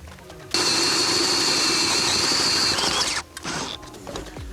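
A 1.5-inch hole saw on a power drill cuts holes in a motor tray. A loud, sustained high whine starts abruptly, holds for about three seconds, then cuts out, followed by a brief lower rerun.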